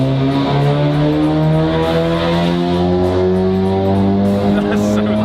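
A VW Mk8 Golf R with a stage 2 Racing Line tune revving hard on its first run on a dyno. The engine note climbs steadily in pitch and stays loud and continuous throughout, with strong harmonics.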